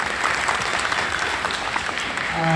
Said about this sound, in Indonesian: boleh tepuk tangan buat sahabat-sahabat nih